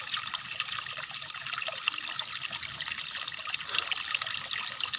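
Spring water flows into a dug tilapia pond, a continuous trickling, splashing gurgle close by with small bright bursts, steady and moderate in loudness, with no talk over it.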